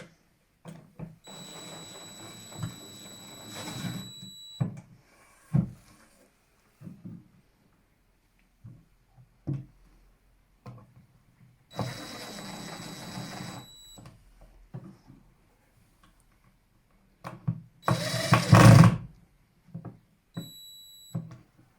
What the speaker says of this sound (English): And then all we need to do is attach some screws.